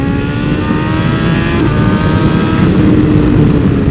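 BMW S1000RR sportbike, Brentuned, pulling hard in third gear on an open road, a loud, close engine note climbing steadily in pitch for several seconds with no talk.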